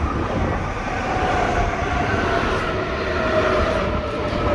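A train rushes steadily and loudly through Houilles-Carrières-sur-Seine station, a continuous close rumble with rail noise and no speech.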